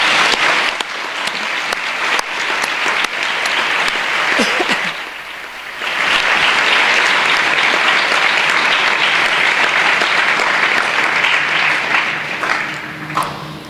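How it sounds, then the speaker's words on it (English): Sustained applause from a school speech day audience, loud, dense clapping that dips briefly mid-way then swells again and holds steady until the end, with no talking. "Please join me in a round of applause to show our appreciation to them all."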